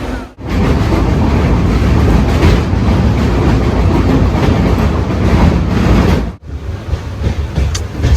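Inside a moving passenger train, loud continuous rumble of wheels on rails with rhythmic rattling, a brief dip partway through, then the steady roar resumes.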